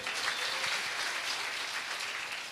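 An audience at a live religious darbar gathering claps steadily, a continuous patter of many hands that sounds fairly soft and distant, with no talking.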